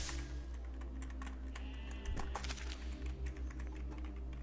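Computer keyboard keys clicked in quick bursts for copy and paste, close and crisp over a steady low hum, with a short cluster of taps followed by scattered single presses.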